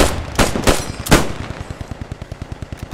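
Machine gun fire in the WWII shooter Post Scriptum: a few heavy bursts up close, then a steady, evenly spaced stream of rapid shots fading slightly, with no voices.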